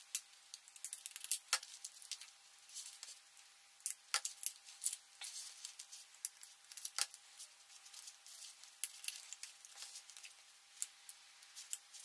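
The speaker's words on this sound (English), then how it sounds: "step will be removing of this hot shrink foil" Foil heat-shrink wrap being peeled and picked off a FrSky transmitter module, faint close crinkles and small sharp snaps scattered irregularly against a quiet background.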